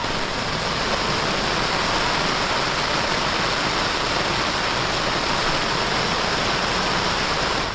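Heavy rain pouring steadily at a coastal tent campsite, a dense continuous broadband hiss at constant loudness throughout, with no voices.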